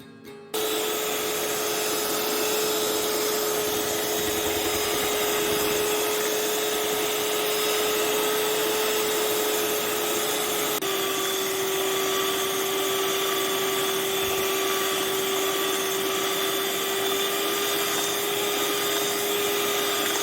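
An electric hand beater whips frozen vanilla custard ice cream mixture with a loud, steady motor whine that runs unbroken throughout. The pitch dips slightly partway through, and no one speaks.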